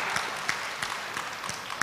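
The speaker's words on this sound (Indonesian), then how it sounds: "kita kasih tepuk tangan dulu pada calon rektor kita" A hall audience claps for a university rector candidate at a Diponegoro rector debate, a soft, even patter of scattered applause heard faintly from across the room.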